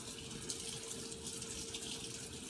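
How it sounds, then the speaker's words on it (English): Tap water runs steadily into a sink while leafy greens are rinsed under the stream, a constant close hiss with no pauses or voices. "keep washing them for at least a couple minutes so they're super clean"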